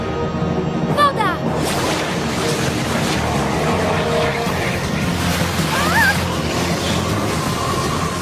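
Rushing cartoon water surges as steady crashing waves and churning spray, loud and continuous, with brief voices and effects layered over the roar.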